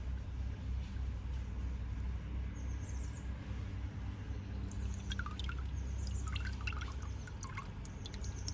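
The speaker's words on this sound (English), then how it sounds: "Yeah, I'll water it first." Water is poured into the pot of a native willow seedling during repotting, producing faint trickling and dripping over a low background hum, quiet and close.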